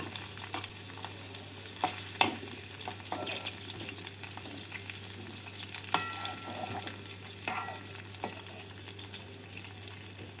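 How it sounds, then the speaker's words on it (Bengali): Cauliflower florets fry in oil in a pan, giving a continuous bubbling sizzle with scattered spatula taps and scrapes, close and moderately quiet, with no speech. "বাকি ফুলকপিগুলোকেও এইভাবে ভেজে নেব"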